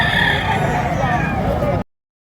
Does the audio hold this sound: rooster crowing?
yes